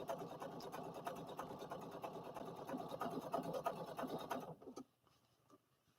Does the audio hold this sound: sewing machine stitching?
yes